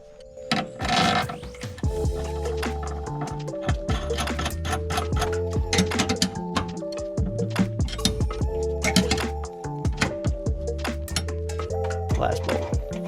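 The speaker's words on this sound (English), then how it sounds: "put this giant bolt all the way in there for the support of this whole" Large bolt being tightened on a fuel pump mount for a Holley Sniper EFI setup, giving sharp metallic clicks in a steady irregular run, close up, over a continuous tonal background.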